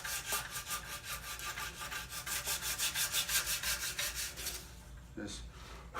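Back-and-forth rubbing of 80 grit sandpaper on a block over fine wood, steady rhythmic strokes close up, easing off near the end with a brief scrape.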